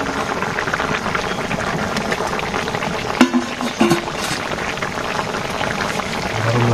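A fish curry cooking in a pan as the fish goes in, a steady loud bubbling simmer with a couple of brief splashy plops in the middle and no voice.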